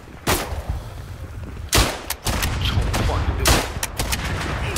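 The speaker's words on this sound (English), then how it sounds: "Incoming artillery fire!" Incoming artillery fire in a video game: a series of heavy booming impacts at irregular intervals over a steady rumbling battle din, loud and close, with no talk.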